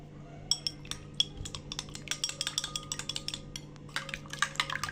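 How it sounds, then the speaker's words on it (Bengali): An egg being beaten in a bowl for coating potato egg chops, with a rapid run of light clinking taps of a utensil against the bowl, close and fairly soft, with no talk. "ডিমটা ভালো করে ফেটিয়ে নিব।"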